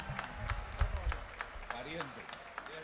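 Scattered, faint clapping from a festival crowd welcoming a singer at the Ykua Bolaños Festival 2024, individual claps spaced out rather than a full ovation, under a voice speaking.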